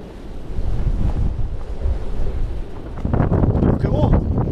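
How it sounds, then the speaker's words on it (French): Strong, steady wind buffets the microphone at a waterside spot during pike fishing in a storm, a constant roaring rumble that swells louder in the last couple of seconds, with no talking. "le vent forcit"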